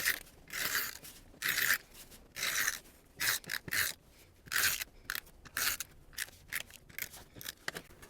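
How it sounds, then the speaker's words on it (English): A tape runner rolls adhesive tape onto the back of a paper piece for a Hobonichi Weeks planner; quick, close crackling strokes come in a rapid uneven series of short bursts separated by brief pauses. "I'm going to take my tape runner and run the tape on the back"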